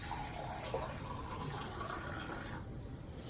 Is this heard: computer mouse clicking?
no